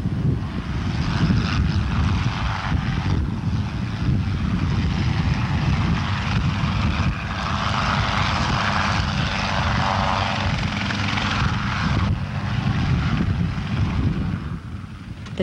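A helicopter flies in gusting winds, ferrying a bucket of well water over a boardwalk being rebuilt in Sandwich, its loud, steady rotor and engine roar filling the whole stretch without letting up.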